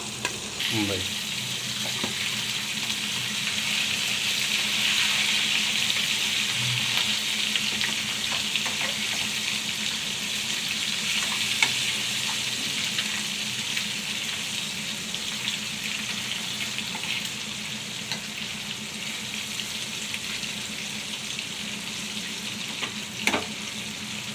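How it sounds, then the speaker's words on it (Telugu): Mrigasira fish fry in hot oil in a pan, a steady, close crackling sizzle that continues for the whole stretch, with occasional faint clinks. "ఇప్పుడే ఫ్రై అవుతున్నాయి గాయస్"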